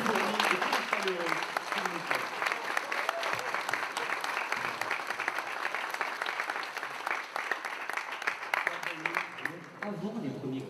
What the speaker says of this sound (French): sous vos applaudissements très fournis et très chaleureux